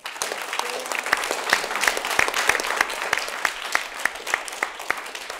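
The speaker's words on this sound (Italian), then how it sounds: "Accogliamo con un grande applauso la vicepresidente della nuova Virtus" A hall audience greets the vice president of the new Virtus club with warm applause, a continuous patter of many hands with individual sharp claps standing out, moderately loud and steady throughout.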